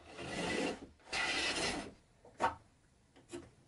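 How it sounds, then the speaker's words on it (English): Hand plane or rasp working across a pine board during workbench building, two long rasping strokes followed by a few short scraping touches, close and fairly quiet with no talk. "no board is left unflattened."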